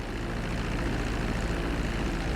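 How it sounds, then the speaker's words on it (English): An airplane in Grand Theft Auto V taxis on a runway, its propeller engine giving a steady, close, low droning roar that holds evenly throughout. "Now let's get the plane off the runway. Taxi over to the marked area"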